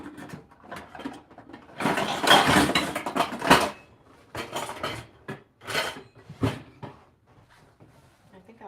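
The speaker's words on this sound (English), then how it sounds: "Get a frying pan." Metal pans clank and scrape as a frying pan is pulled out and cookware shifted around, a cluster of bangs and rattles followed by a few lighter knocks.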